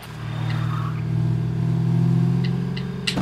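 A car engine in the zombie survival game State of Decay drives up, a steady close low rumble that swells gently as it approaches, with a few faint clicks and no talking.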